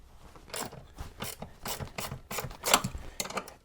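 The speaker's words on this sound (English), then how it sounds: "So you can just lefty-loosey that nut off of there." A 1/2-inch wrench loosens the saddlebag mount nut on a Harley Heritage Softail, ratcheting in a quick series of close clicks.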